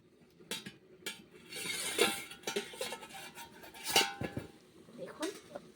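A metal lid comes off a cooking pot of boiling amla with several sharp clanks and clinks of metal cookware, close and fairly quiet, with soft handling noise between the knocks.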